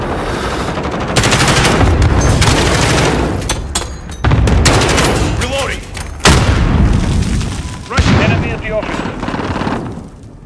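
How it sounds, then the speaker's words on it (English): Explosions from a cluster strike mixed with rapid machine-gun fire in a shooter video game, loud and close, several heavy booms breaking through continuous bursts, with game voice lines heard. "Cluster strike inbound."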